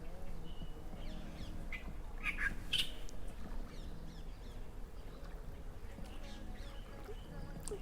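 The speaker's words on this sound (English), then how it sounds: "The birds like this. I'd love to capture that bird up there." A few brief, distant bird calls ring out over a quiet, steady outdoor background, most noticeable in the middle stretch.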